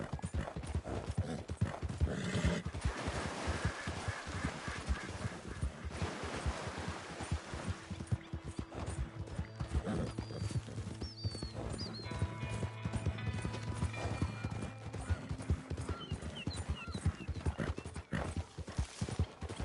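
Horse hooves clip-clopping in a steady rhythm for a long stretch, close by, with an occasional faint whinny and no clear talk.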